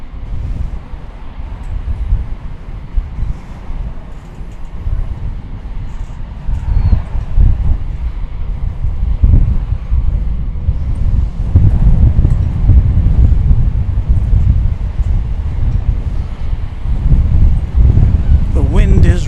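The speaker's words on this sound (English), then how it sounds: "The wind is relentless." Strong, relentless wind blows at an outdoor spot at Dallas Fort Worth airport, a loud continuous low roar buffeting the microphone that grows stronger partway through, with someone talking over it.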